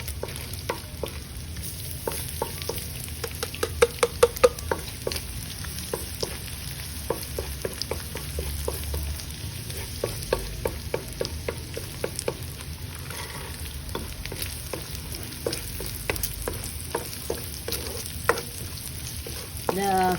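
Garlic fries with cooked bacon in a pan for green peas bacon fried rice, a steady sizzle with scattered scraping stirs and clinks, continuous and close without talk.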